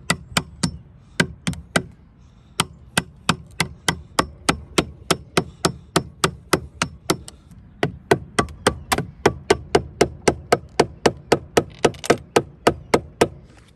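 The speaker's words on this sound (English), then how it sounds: "Take a break from all that hammering" A hammer pounds on a stuck pin in the power tilt and trim unit of a Mercury 115 hp two-stroke outboard, a long run of sharp, loud metallic blows in a quick steady rhythm with brief pauses.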